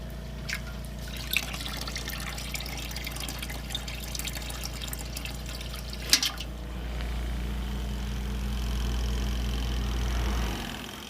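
Water trickling from a portable washing machine, a faint, steady dribble over a low machine hum, with a few small clicks and a louder knock near the middle before the hum shifts.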